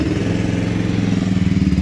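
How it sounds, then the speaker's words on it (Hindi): A 2022 Bajaj Pulsar 180 motorcycle idles close by, its exhaust giving a loud, steady, rapid low thumping throb with no revving. "इसको पहले स्टार्ट कर लेते हैं, उससे फिर एक बार एग्जॉस्ट नोट भी सुनते हैं"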